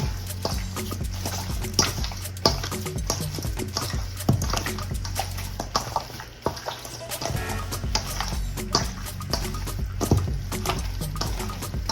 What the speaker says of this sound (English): Get you a glove and mix this all together.